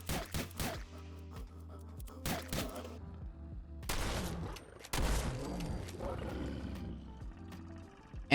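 Repeated shotgun blasts in Fallout 4, fired from a handmade lever-action shotgun at a Deathclaw, sharp bursts spaced unevenly amid roaring creature growls and game music, loud and close.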